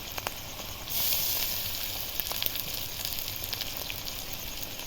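Garlic and green chilli dropped into hot oil, a bright hissing sizzle that jumps up about a second in and then settles into a steady crackle with small pops, close and alone.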